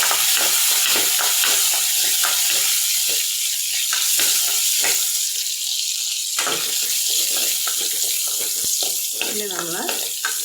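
Curry leaves sizzle and crackle in hot oil in a pan for a Kerala buttermilk curry, a steady frying hiss with scattered pops and stirring scrapes throughout.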